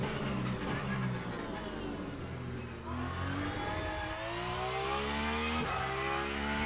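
A Porsche engine revs and pulls through the gears in a racing sim, rising and falling in pitch with a steady loud drone and no talk.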